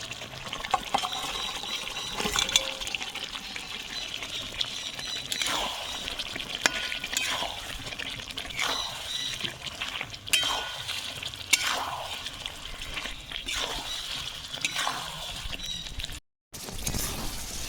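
Fried potato and cauliflower stirred into cooked spices in a pan for a rohu fish curry, a constant sizzle broken by repeated rhythmic spatula scrapes, close and steady, with a brief dropout near the end.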